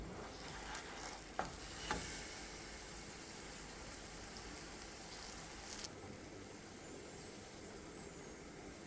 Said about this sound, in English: we're going to go ahead and hit this in the frying pan again